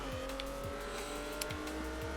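A limousine's engine drones in Forza Horizon 4, steady and moderately loud with repeated short tire chirps and quick revving sweeps over a constant motor hum; no one speaks.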